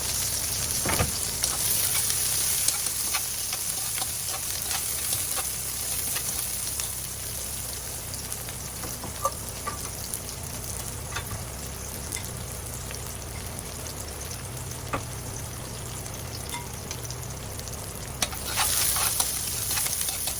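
Onions sizzling as they fry in a pan, a continuous close crackling hiss with scattered pops and occasional utensil taps, steady and alone without any talking.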